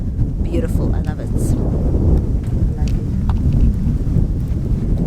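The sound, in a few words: wind blowing into the microphone outdoors by a lake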